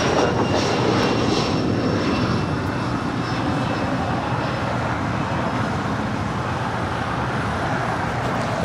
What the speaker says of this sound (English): That was a Bombardier Challenger 605 departing here on the south side.